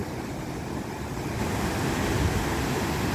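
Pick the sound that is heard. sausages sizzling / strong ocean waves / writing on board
strong ocean waves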